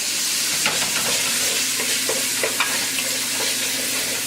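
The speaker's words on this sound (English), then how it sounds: "Now you hear the sizzle, that means my pot was already going. So we're going to get this onions going here to make our sauce." Onions sizzling in an already hot pot as the base for a lasagna meat sauce, a dense continuous frying hiss with occasional scrapes and stirring taps, close and fairly loud.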